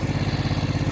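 A 1968 Moto Guzzi V7 700 motorcycle with Gallardo SS1 carburetors idles close by, a loud, even, rapid pulsing throb with no voices.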